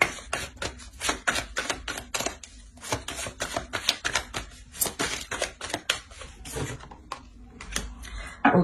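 Tarot cards being shuffled and drawn from a deck, a close, busy flurry of crisp flicks, riffles and slaps in quick irregular bursts, fairly loud and free of talk.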